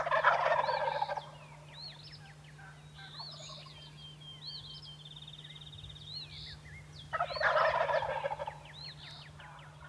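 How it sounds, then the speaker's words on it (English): Several wild turkeys gobble from the roost at dawn, loud rolling bursts at the start and again near the end, with fainter distant gobbles and calls in between over a steady low hum. "What a gobbling morning it was."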